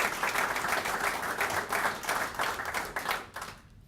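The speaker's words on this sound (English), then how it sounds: "So if we can give them all a round of applause" A crowd applauds at an airport demolition ceremony, steady dense clapping that holds fairly loud for several seconds, then thins and fades out at the end.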